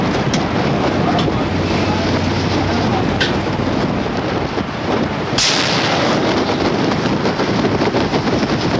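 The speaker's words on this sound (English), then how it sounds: "At this time, I am warning you that I am commencing the fire." Gunfire from a vessel at sea as a warning to another ship: a few heavy, widely spaced booms stand out over constant loud wind and rumbling engine and sea noise, with no voices.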